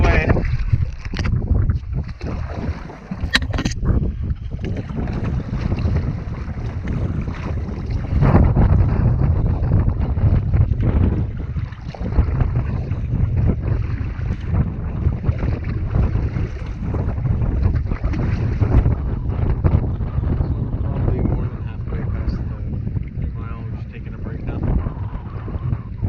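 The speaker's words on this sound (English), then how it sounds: "So the wind is against us on 3 Mile." Wind blows hard against a canoe paddling on a lake in Algonquin, a steady rushing roar with gusty microphone buffeting and occasional paddle knocks, continuous across the whole stretch.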